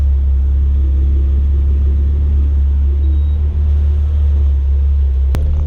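A Jeep Comanche pickup's engine hums in a steady, close, low rumble while the truck drives along a road, with no talking.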